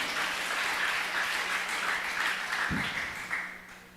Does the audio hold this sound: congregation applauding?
yes